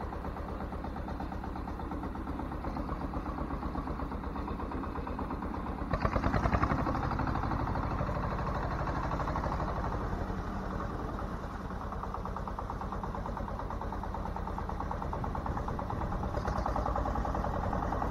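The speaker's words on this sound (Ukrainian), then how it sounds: "така робота трактора без передка." A tractor engine runs steadily at idle with a low, rhythmic chugging, briefly revving louder a few seconds in before settling back to a constant drone; the tractor works a heavy harrow without its front section.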